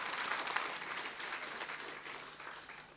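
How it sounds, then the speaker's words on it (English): Sustained applause from a conference audience for a minister at a school sports gathering, a dense steady wash of many hands clapping that tapers slightly toward the end, with no talk over it. "let's give a big round of applause to the Honourable Minister."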